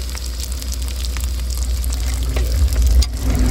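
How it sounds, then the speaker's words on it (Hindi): Peas frying with reddish-browned onions in a pan, a loud steady hissing sizzle with faint stirring, continuous and close throughout. "देख सकते हो दोस्तों बढ़िया तरीके से मटर फ्राई हो चुका है"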